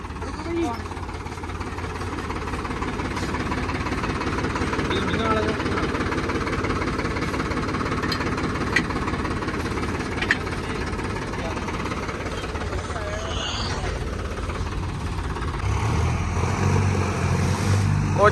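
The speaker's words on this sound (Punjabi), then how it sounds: "ਬਾਕੀ ਦੇ ਦੇ ਟਰੈਕਟਰ ਦੇ ਜੋਰ ਨਾਲ ਸਾਰੀ ਥੱਲੇ ਨੂੰ ਆਉਂਦੀ ਹੈ ਕਿ ਨਹੀਂ ਆਉਂਦੀ" A tractor engine hauling a trolley loaded with dry fodder gives a steady, low rumbling drone that stays close and constant throughout, with people talking over it.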